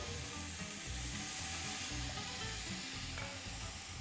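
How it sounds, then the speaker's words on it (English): Steady, dense sizzling of onions frying in a hot pan, a continuous crackling hiss with no voices over it. "You want to hear that sizzle."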